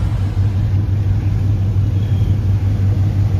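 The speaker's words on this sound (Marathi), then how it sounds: "या कच्च्या मालवली गाडी आहे पिकअप" A pickup truck carrying vegetables rumbles past close by, a loud, steady engine drone with no voices.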